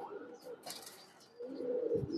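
Silver fancy pigeons coo in low, throaty rolls near at hand, a short burst early and a fuller one toward the end, with a voice talking over them.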